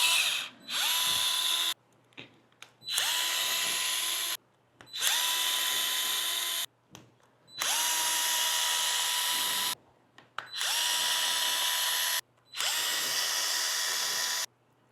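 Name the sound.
power drill removing screws from Traxxas Maxx Slash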